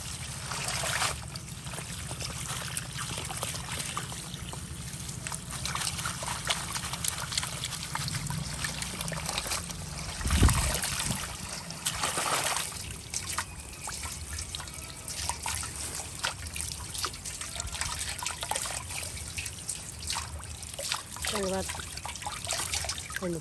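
Water trickles and splashes steadily while moringa leaves are rinsed and washed, a continuous running stream with a few louder splashes and a voice talking over it.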